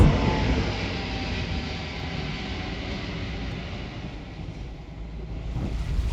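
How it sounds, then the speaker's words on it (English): A plane passes over the sea near a sailing boat, heard as a broad whooshing roar that fades then swells again, mixed with wind and wave noise. "the plane that just went by in front of us"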